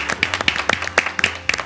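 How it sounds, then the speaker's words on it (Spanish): A handful of sharp, close hand claps ring out in an uneven burst, about a dozen in under two seconds, with no talking over them. "Aplausos"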